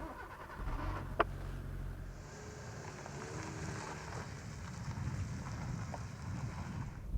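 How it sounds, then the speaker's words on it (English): A Hyundai Accent driving on the road gives a quiet, steady road and engine hum with wind noise throughout and a single brief knock early on. "So how does the Accent actually drive out on the road?"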